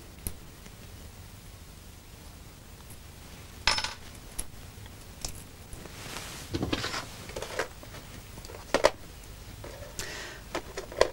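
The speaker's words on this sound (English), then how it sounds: "Underneath, if I undo this screw," A screw is undone on the head drum of a VHS video recorder, giving soft, scattered metallic clicks, light clinks and rustling handling noises, close by and fairly quiet, with no talking.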